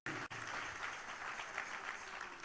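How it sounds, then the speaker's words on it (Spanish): Steady applause from a church congregation, continuous and fairly even after a brief break at the start, with no talk over it. "Denle un aplauso a él entonces."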